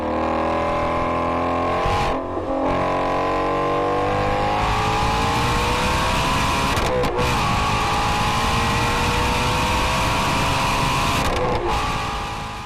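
A high-revving V8 engine climbs repeatedly through the rev range, each run rising in pitch and broken by brief gear shifts, loud and close throughout with no talking.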